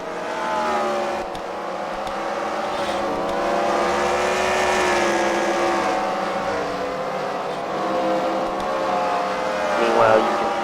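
Race car engines roar steadily at a demolition derby-style racing event at the Freedom Factory, with sustained revving and passing drones throughout, under an announcer's voice.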